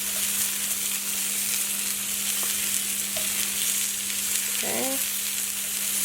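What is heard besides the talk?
onion and chicken frying in a pan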